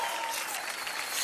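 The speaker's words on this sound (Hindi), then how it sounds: "जोरदार तालियां रानी जी के लिए" Studio audience applause on a Hindi comedy game-show set, a dense, steady burst of clapping from many hands, close and continuous for a moment, with no one speaking over it.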